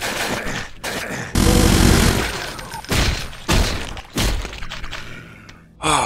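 Heavy gunfire and blasts in the Brutal Doom mod, loud dense bursts that cut in and out several times across the stretch, up close with no talk over them.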